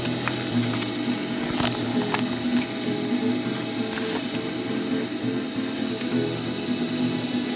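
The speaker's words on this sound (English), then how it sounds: "We are sewing it" A sewing machine stitches webbing for a homemade chest pouch, running in a steady mechanical whir with rapid, even clicking needle strokes and a few sharper knocks, close and continuous without speech.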